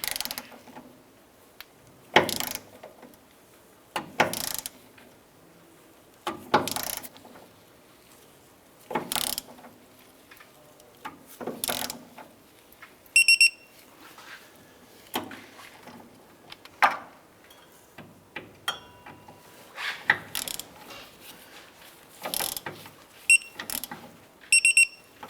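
A ratchet wrench tightens the upper shock absorber bolt on a 2004–2012 Chevrolet Colorado, giving repeated short bursts of sharp clicking separated by pauses, close and clear, with a few faint higher metallic chirps.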